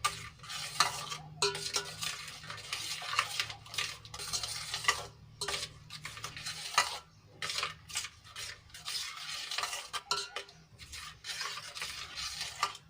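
Soap is stirred with salt and vinegar to dissolve it for a homemade dish cleaner, producing repeated close scraping and swishing strokes in an uneven rhythm, alone without speech.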